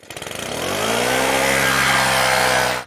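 A small two-stroke leaf blower engine pulls and sputters, then revs up quickly into a loud, steady, buzzing whine that holds before cutting off.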